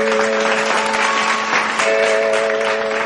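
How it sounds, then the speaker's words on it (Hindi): Loud, continuous audience clapping fills the hall at a stage music programme, a dense steady wash of many hands lasting throughout, with a sustained musical tone underneath. "गोटे जोरदार करताली"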